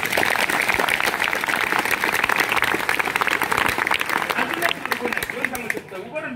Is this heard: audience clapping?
yes